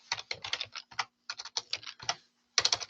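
Bursts of typing on a computer keyboard at a repair-shop scheduling workstation, quick clustered keystrokes close by in several runs separated by short pauses, with no talk.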